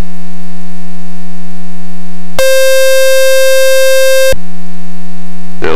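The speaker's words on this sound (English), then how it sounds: "Still getting a high current alarm." A loud, steady electronic alarm tone sounds in a light aircraft cockpit to warn of high current. A low buzzing tone gives way to a higher piercing tone for about two seconds, then the low tone returns.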